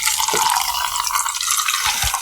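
Canned hard seltzer, a Truly grapefruit or White Claw black cherry, pours in a close, bright fizzing stream, with a few soft splashes near the end.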